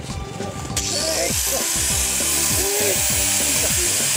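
A handheld disc sander grinds against an offroad Suzuki Samurai tire on a mountain trail, starting about a second in as a loud, continuous high-pitched whine over low, pulsing mechanical rumble.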